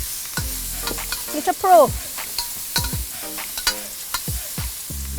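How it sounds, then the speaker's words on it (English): Garlic and pimento peppers fry in oil in a pot while a spoon stirs them, a steady sizzle broken by scraping strokes, cooked outdoors in the bush, with brief talk over it. "garlic, pimento peppers in here. So, Stir it up."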